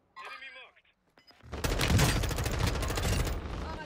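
Dense, loud gunfire rattles continuously in a video game shooter after a brief stretch of talking and a few clicks, with the shots blurring into a sustained roar.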